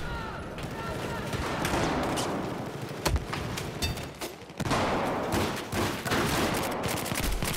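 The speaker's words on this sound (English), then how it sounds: "Looks like some machine gun guys from over there are getting some shots going." Sustained machine gun fire in Battlefield 4's Operation Metro map rattles on with dense cracks and echoing shots, mixed with battle noise while a voice talks over it.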